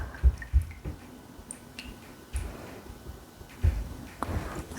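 Tea tree oil falling drop by drop from a dropper into a container while mixing a scalp treatment: soft, close, irregular little plinks and taps, a handful of separate drops over a few seconds against a quiet room, no talking.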